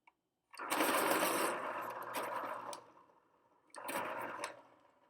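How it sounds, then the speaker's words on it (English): A sharpener grinds in two bursts, one longer and one shorter, close and fairly loud, with a brief pause between them and no talking. "I'm going to have to sharpen this"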